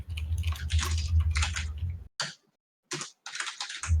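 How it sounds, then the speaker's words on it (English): Keys on a computer keyboard clatter in fast, dense bursts during a live game-discussion stream, broken by short silent pauses before the typing picks up again, close and fairly loud with no talk. "Everybody busy typing?"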